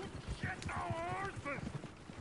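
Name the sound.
horses in video game Red Dead Redemption 2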